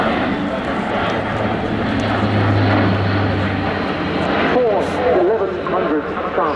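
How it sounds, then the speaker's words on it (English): An Airbus A400M with TP400 turboprop engines drones steadily nearby during an air display, a broad continuous engine roar with a low hum running underneath throughout. "CT400 turboprop engines"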